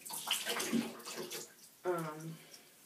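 Water runs steadily while a Peruvian wavy lace frontal wig is washed by hand, a close, splashing flow that fades before a voice begins talking.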